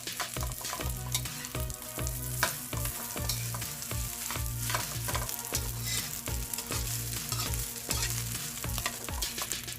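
Garlic fried rice stir-fried in a hot pan, with a steady loud sizzle broken by repeated scraping and tossing strokes of the spatula, close up and with no talk.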